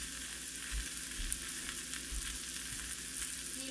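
Soup seasoned with cracked black pepper simmering in a Dutch oven, giving a soft continuous sizzle and bubbling with faint stirring taps, low and steady, with no voices.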